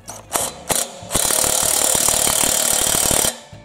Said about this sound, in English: Okay, now we're ready to tighten this up. 3/4 socket.